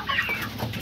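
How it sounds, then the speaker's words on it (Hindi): Several chickens clucking softly as they peck at grain in a backyard coop, a steady low murmur of fowl sounds with light rustling, close and continuous without talk. "सारी मुर्गियां खा रही हैं दाना"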